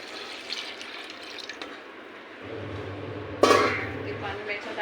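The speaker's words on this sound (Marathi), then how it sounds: "तर आता मी याच्यामध्ये पाणी टाकणार आहे." Water, including juice from small crab claws, is poured into a crab curry in a pot. A splashing, running pour starts partway through and continues to the end, close and moderately loud.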